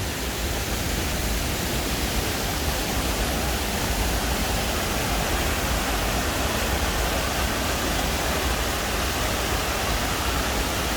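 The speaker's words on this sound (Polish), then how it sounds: "wodospady zewsząd przepiękne miejsce" Waterfalls pouring from all sides at a scenic spot behind a restaurant in Himare, Albania: a loud, steady, broadband roar of rushing water that fills the whole stretch without letup.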